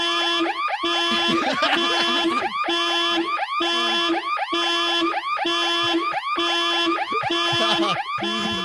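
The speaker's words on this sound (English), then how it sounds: "Like an annoying car alarm and a big red light going off to go along with it." A loud, annoying car alarm sounds as a possible airline boarding alert, cycling through repeated rising and falling electronic whoops with steady volume for the whole stretch, close and alone with no talking.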